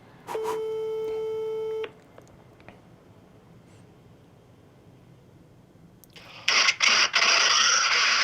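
An outgoing phone call rings once with a long electronic tone at the start, then quiet line hiss, followed by louder clicks and rustling bursts near the end.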